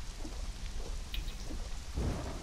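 Heavy rain falls steadily during a night storm in Conan Exiles, with low rumbles of thunder rolling underneath, and no one speaking.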